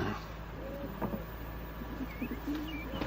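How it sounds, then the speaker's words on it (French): Pigeons coo softly in a low, repeated murmur, with a few faint chirps over steady background noise, fairly close and alone without talk. "Des pigeons."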